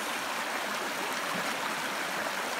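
A clear, clean river flows steadily, its rushing water making a continuous broadband hiss and babble with no pauses or voices.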